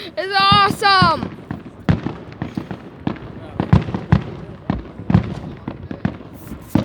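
Fireworks burst in a string of sharp cracks and booms at varying distance, some loud and close, others softer, spaced irregularly while excited voices shout and talk over them, with a whistling rise heard near the start.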